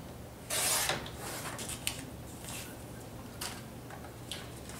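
Scissors snip through a paper envelope, a faint crisp cut followed by soft, scattered rustling and light clicks, close and quiet.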